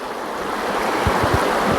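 Shallow creek water flows steadily on a hiking trail toward Tip Toe Falls, a close, continuous rushing wash with a few soft low thumps near the end.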